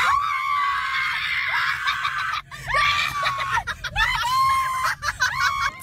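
Thai fans shriek at a famous actor walking along a street: a dense, loud chorus of high-pitched screams, nearly continuous with brief dips.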